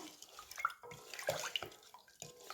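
Homemade marinade for pickled cauliflower poured into a pot, a close splashing trickle of liquid that comes in several short pours with brief pauses between them.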